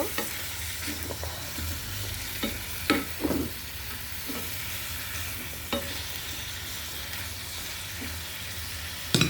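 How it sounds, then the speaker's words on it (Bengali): Potato, flat beans and radish being sautéed with spices in a pan, a continuous sizzle broken by repeated scraping stirs and occasional sharper clacks of the utensil, no one talking. "আমি এখন দিতেছি আলু, সিম, মূলা সুন্দর করে কষিয়ে নেব।"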